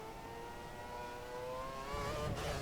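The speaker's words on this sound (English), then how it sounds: "Tries to get on the throttle a bit early there on the exit." A Formula 1 car engine revving high on throttle at Brands Hatch in F1 2013, a steady whining tone that climbs in pitch and grows a little louder.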